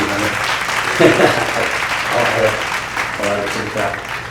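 Audience applause during a talk on thermal identification, a moderate patter of clapping running throughout with a voice briefly speaking over it.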